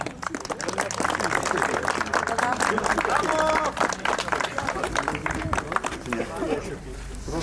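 Applause at a rally awards ceremony as third-place finishers are announced, steady clapping from a gathered crowd lasting throughout, with a voice talking over it.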